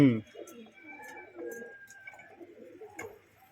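Pet fancy pigeons in a cage coo softly at close range, with low rolling calls repeating through the stretch and a sharper sound at the start.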